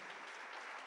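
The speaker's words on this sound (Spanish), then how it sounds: "¿Te le va a dar un aplauso?" Dense, steady clapping from a church congregation fills the whole short moment, loud and continuous with no voices over it.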